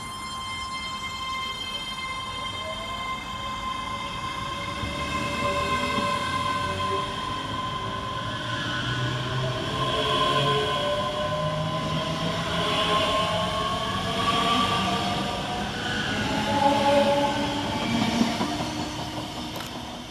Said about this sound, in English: we'll get started here at Longniddry with 385040 and 385039, working the 1400 Scotrail service from Edinburgh Waverley to North Berwick